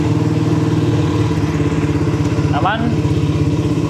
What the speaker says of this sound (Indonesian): Mesin juga sudah langsam.